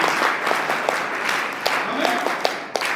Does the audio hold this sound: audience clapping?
yes